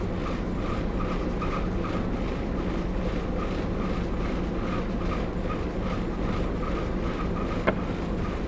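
Train departing in the Train Simulator 2015 video game on the Great Central Railway during a winter gala, a steady loud rumbling drone that holds level throughout, with one brief sharp click near the end.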